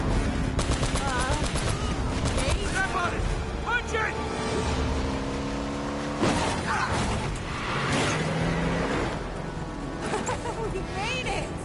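Bursts of gunfire and machine-gun rattle pop through a firefight in Uncharted: The Nathan Drake Collection, mixed with mechanical clanks, whooshes and game music, while a player talks over the action.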